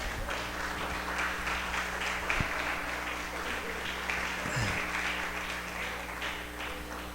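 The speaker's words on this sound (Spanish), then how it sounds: "Denle un aplauso al Señor" A church congregation gives a sustained round of applause during a prophetic teaching service, a steady diffuse clapping texture at moderate distance with a low hum underneath.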